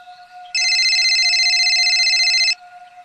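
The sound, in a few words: telephone ringing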